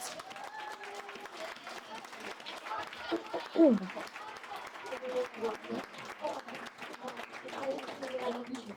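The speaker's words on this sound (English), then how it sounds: "Let's give them all a round of applause." An audience at a school district AED project event applauds, the clapping fairly soft and mixed with voices and chatter, swelling briefly near the middle before continuing at a moderate level.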